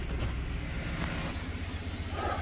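A Cadillac Northstar engine idles after a starter replacement, a close, steady low rumble with a faint rhythmic pulse, heard alone with no talking.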